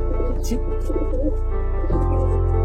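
A breeding pair of pigeons coos in a loft at Uluberia near Kolkata, soft calls close by under a steady electrical hum, with talking mixed in.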